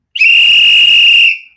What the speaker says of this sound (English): Want to give big whistle for Demick Moore.